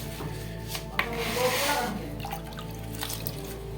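Pea shoot greens being washed by hand in water, a close sloshing and rubbing with a clatter near the start and a louder swirl of water in the middle, with no talk.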